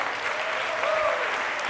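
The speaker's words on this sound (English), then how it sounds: "Let's give them a round of applause." An audience at a district address applauds the school board in a brief, even burst of many hands clapping, steady from start to finish.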